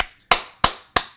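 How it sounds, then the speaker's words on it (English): Three sharp, evenly spaced hand claps, close and crisp, each decaying quickly into silence. "Clap, clap, clap."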